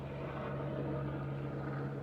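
A helicopter passes overhead early in the morning, a steady loud rotor drone with a strong low hum that holds evenly throughout without fading.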